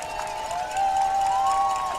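A capacity crowd at a high school football game, New Lexington versus West Muskingum, roars steadily from a distance, with a sustained whistle-like tone riding over the broad crowd noise.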